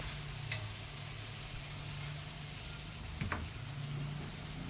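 Spices fry quietly in a pan for a vegetarian papaya curry, a low, even sizzle with a couple of brief utensil taps, heard close but faint.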